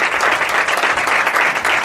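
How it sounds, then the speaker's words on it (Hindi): A church congregation applauding, a dense, loud and sustained round of clapping from many hands that fills the whole stretch evenly. "एक जोरदार ताली बजाएंगे परमेश्वर के लिए।"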